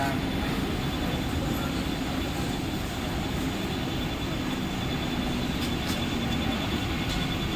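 A local commuter train arriving at a platform at a Mumbai station rumbles steadily and loudly throughout, with a continuous metallic roar and no voices.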